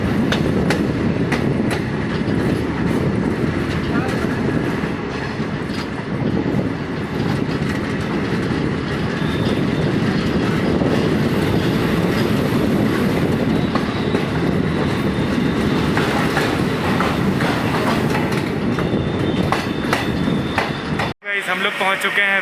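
The Shramjivi Express runs on the tracks on its Rajgir to New Delhi route, a loud, steady rumble with rhythmic clickety-clack of wheels over rail joints and some metallic clanks before it cuts off abruptly near the end.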